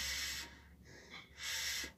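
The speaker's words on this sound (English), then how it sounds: "Do you hear that? The breathe, I got my breathing." Breathing drawn through the filter of a new Korean gas mask, two long hissing breaths with a short pause between, close and clear with no talking.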